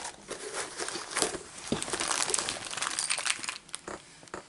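Plastic baggie of small tools crinkling and rustling close by, a dense run of crisp crackles and crunches over a few seconds with brief pauses, no voices.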